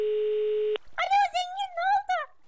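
A steady phone dial tone from the Minecraft video game sounds alone for under a second, cuts off abruptly, and then a voice starts talking.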